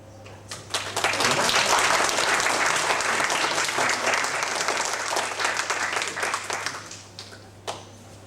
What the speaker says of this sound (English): let's have another big round of applause for Leon Silver